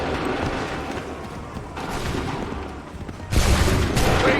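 Muskets fire in ragged volleys during a battle in Assassin's Creed III, a rolling crackle of shots building to a louder, closer burst near the end.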